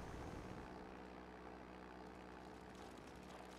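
Steady droning whir of a drone unit in a real-time strategy game match, loud and continuous with a constant engine-like hum, no voices over it.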